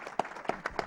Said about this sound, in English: Hey, big round of applause.